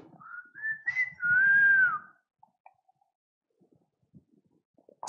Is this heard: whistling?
yes